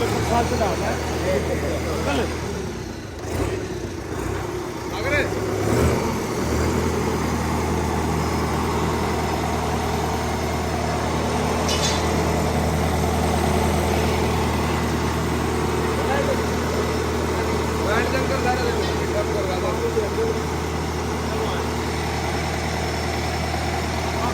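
A Sonalika RX tractor runs before a trolley test, its engine holding a loud, steady, low idling drone through the whole stretch. Faint voices sit in the background.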